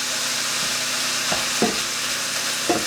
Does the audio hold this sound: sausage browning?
yes